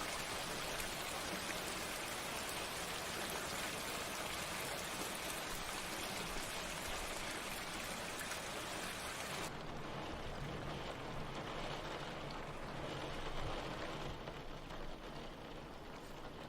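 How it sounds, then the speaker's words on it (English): Rain falls steadily outside as a dense, continuous hiss of drops that holds at an even level throughout, thinning slightly in the brightest part toward the end, with no voices. "It's raining outside."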